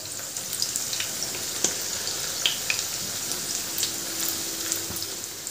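A veg roll tikki shallow-fries in oil in a pan, giving a steady close sizzle with scattered faint pops and crackles, alone without speech.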